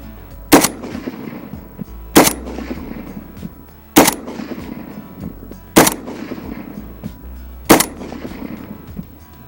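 Five loud, evenly spaced single shots from a PSA AK-47 rifle firing Tula ammunition, each a sharp crack with a short ringing tail, about two seconds apart, with no talking.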